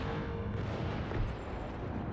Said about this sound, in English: And now setting off my bombs again.